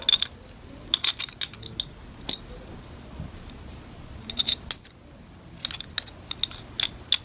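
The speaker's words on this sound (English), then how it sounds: "Take the knife, and I'm going to be putting it in the clamp." A kitchen knife is fitted into a Smith's sharpening kit clamp with three thumb screws, giving light metallic clicks and clinks in small irregular clusters. The sounds are close and crisp against a quiet room.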